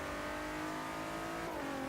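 Big turbocharged Bentley Continental GT engine in Forza Horizon 3 racing game pulling hard under acceleration, a loud continuous roar climbing steadily before a sharp pitch drop at an upshift near the end, no voices.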